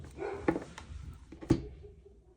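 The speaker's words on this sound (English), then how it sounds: "My dogs are freaking out." Dogs barking in a house, with two sharp barks about a second apart and some whining in between, standing alone with no talk and fading afterwards.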